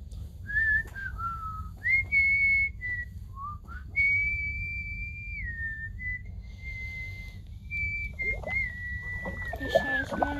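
A person practises whistling up close, holding long tones and sliding between pitches in short phrases separated by pauses. Some faint background talk comes in near the end.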